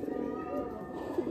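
A tournament-breed domestic pigeon of the Andhra, Madrasi or kalanka type gives a soft, low, throaty coo, steady and close for a moment.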